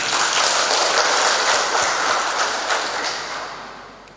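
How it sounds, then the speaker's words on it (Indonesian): Applause from an audience at a government event in West Papua, dense and steady clapping that holds strong before slowly thinning out toward the end. "Tepuk tangan dulu."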